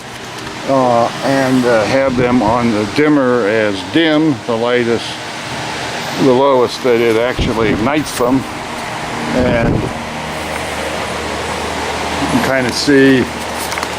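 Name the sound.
electric fan running in a hot barn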